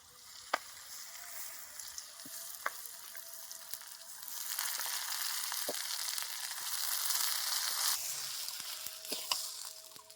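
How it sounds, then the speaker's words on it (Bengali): Washed rice sizzles in hot oil in a pan for plain white pulao, cooked with cinnamon and whole bay leaves, a steady broadband fry that swells louder midway, with a few sharp clinks of stirring. "এই তেলের মধ্যে ধুয়ে রাখা চালটা দিয়ে দিচ্ছি।"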